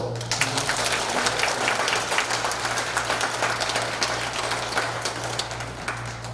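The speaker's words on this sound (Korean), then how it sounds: "큰 박수로" An audience gives continuous, fairly quiet applause for a priest's lecture, over a steady low hum.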